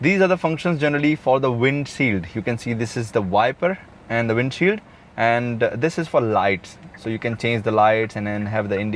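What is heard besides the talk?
No distinct noise like a dog, phone or traffic.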